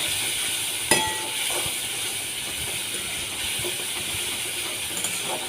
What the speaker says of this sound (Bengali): এটা থেকেও কিছুক্ষণ আমি কষিয়ে নেব